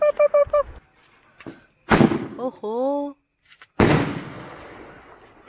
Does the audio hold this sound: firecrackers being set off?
yes